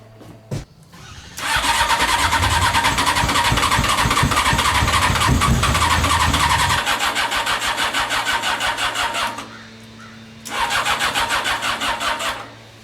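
A Honda CBR 600 reverse trike engine cranks on a dead battery, a loud rapid starter churn that sputters and briefly fires, drops away, then a second strained cranking burst.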